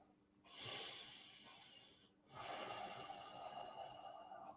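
Slow breathing during a guided meditation, two long airy breaths close to the microphone, the second longer and steadier, with no talk over them.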